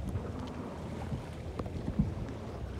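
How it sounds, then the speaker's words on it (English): A 2020 Robalo R247 boat with a Yamaha 300 hp outboard motor and stainless steel prop runs on open water, giving a steady low engine drone under wind buffeting the microphone, with no voices. "obviously pushing us is the Yamaha 300 horsepower outboard motor, stainless steel prop"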